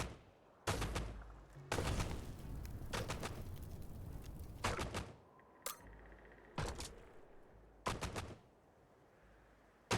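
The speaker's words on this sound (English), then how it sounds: "Fly up in the air, start shooting bullets at it." Bursts of rapid gunfire from a liquid-cooled gun in the game Caves of Qud, several loud volleys separated by short pauses, with no talking.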